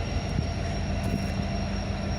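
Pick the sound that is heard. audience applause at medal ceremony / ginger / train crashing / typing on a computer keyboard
train crashing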